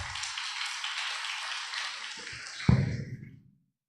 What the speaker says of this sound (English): give a round of applause for Mas Kowi